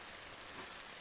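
Faint, steady patter of rain falling outside a hot tent at a winter campsite, a soft continuous hiss with no voices.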